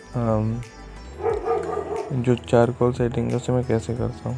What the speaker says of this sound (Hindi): अब देखो, ये कुत्ते भौंक रहे हैं